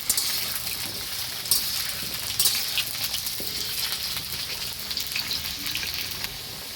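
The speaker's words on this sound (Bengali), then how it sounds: "আলু আমার হালকা করে ভাজা হয়ে গেছে" Cut potatoes frying lightly in hot oil in a pan, with a steady, fairly loud sizzle and crackle and occasional brief spatters and stirring sounds, with no talking.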